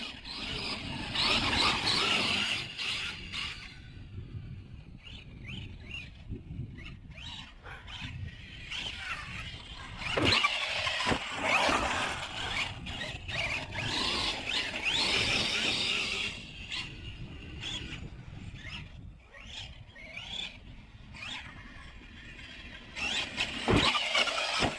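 A Losi 5ive T large-scale gas RC car drives outdoors, its small engine revving and whining up and down in bursts with tire scuffs, fading and returning at moderate distance.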